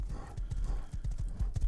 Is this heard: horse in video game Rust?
yes